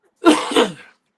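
A single short sneeze-like burst, close and fairly loud, with two quick bursts of breath fading out after about a second, heard alone.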